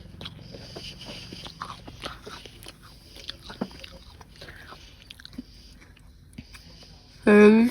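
A spicy biscuit is bitten and chewed close up, with soft crunchy bites and mouth sounds scattered under quiet whispering, ending in a louder burst of noise.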